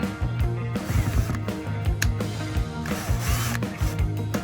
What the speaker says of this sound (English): I like to put the screws in, not tight, but snug